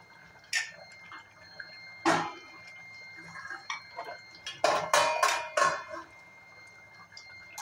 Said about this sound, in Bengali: ঢাকনাটা খুলে নিই